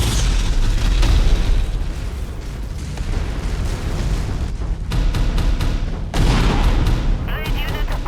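Heavy booming explosions from a destroyed target in MechWarrior 5 mix with dense, continuous battle noise and a brief burst near the end, loud throughout.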